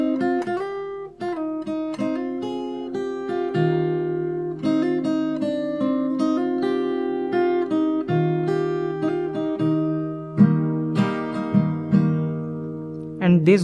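Solo fingerstyle guitar plays the verse of a song, with plucked melody notes ringing over low bass strings. The playing is close and continuous, with a few sharper accented strums toward the end.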